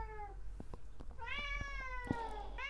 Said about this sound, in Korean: 우리 고양이도 맞대